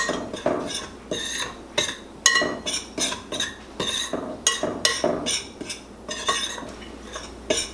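A utensil scrapes and clinks against a bowl while cornmeal and sugar are mixed, in quick repeated strokes, close and with no talk.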